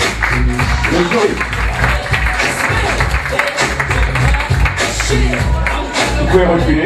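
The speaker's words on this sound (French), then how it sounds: "avancez-vous pour relever les applaudissements et le public" Audience applause at a French beauty pageant casting for Miss Petite de France, a steady wash of clapping from a crowd that runs throughout, loud and continuous with a low hum and some murmuring mixed in.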